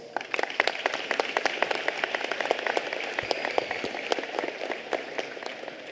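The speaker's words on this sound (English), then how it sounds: "Shall we please give them a round of applause?" Scattered, moderately quiet applause from parents and guests at a university autumn graduation ceremony in South Africa, individual claps clearly separated like patter, fairly even in rhythm for several seconds.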